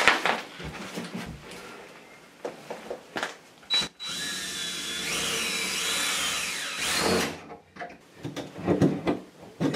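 A power drill works at a rubber shower pan drain, with short bursts and clunks, then a sustained whining run of several seconds, followed by more scattered knocks and scraping, close by.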